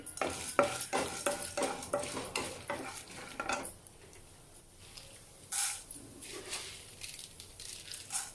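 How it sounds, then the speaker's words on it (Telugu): Chana dal and urad dal dry roasting in a pan for idli podi, a faint patter of lentils rattling and clinking against metal as they are stirred, quieter toward the end with a brief scrape. "రెండు స్పూన్లు మినపప్పు వేసాను పచ్చివాసన పోయి కొద్దిగా కలర్ చేంజ్ అయ్యేంత వరకు వీటిని మాత్రం వేయించుకోవాలండి"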